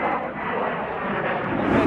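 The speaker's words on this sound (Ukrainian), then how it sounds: "Просто винищувач полетів" A fighter jet passes overhead, its engine making a loud, sustained roar that stays steady for about two seconds with no talking.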